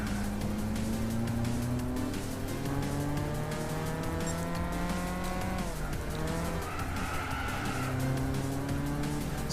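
A Tesla Roadster drives in the Gran Turismo 6 racing game: a steady electric motor whine rises and falls with speed, with tire squeal and skidding as it corners, and no voices.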